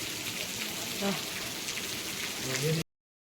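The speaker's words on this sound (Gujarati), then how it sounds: "ગરમી પ્રમાણે વરસાદ આવી ગયા છે" Steady rain patters down on a flooded market across the whole stretch, a dense hiss with faint louder drips, until it stops abruptly near the end.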